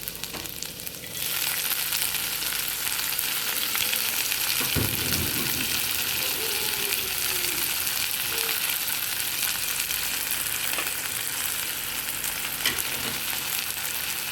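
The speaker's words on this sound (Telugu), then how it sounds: "కొంచెం నెయ్యి ఆలివ్ ఆయిల్ తీసుకున్నాను ఇందులో కండి వెల్లుల్లిపాయలు పచ్చిమిరపకాయలు వేసి వేయించేయండి" Garlic and green chilies fry in a mix of ghee and olive oil for corn soup, giving a loud, steady sizzle close by with occasional stirring scrapes throughout.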